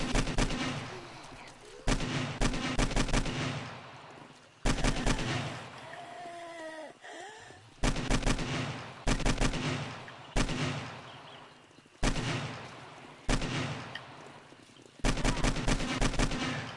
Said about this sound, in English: Let's use the AK, why not?